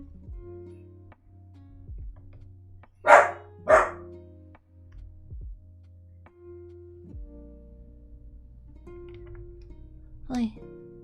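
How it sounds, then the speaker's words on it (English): A small dog gives a pair of quick, sharp barks at a distance from the mic, then a single later yip, amid quiet rustling and tapping in a room. "What a cute bark."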